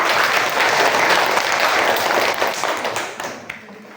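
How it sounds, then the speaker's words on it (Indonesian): A classroom of students claps for a student group, a dense burst of applause that fades out toward the end. "Untuk kelompok 4, tepuk tangan."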